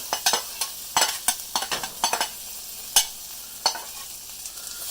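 Potatoes frying in butter in a pan, a constant close sizzle broken by a quick run of sharp utensil taps and scrapes, then a few isolated clacks, with no voices.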